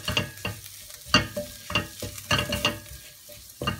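Ginger, garlic and coriander powder fry in a pan with a crisp sizzle, broken by repeated scraping stirs at a quick, uneven rhythm, close and clear with no talk.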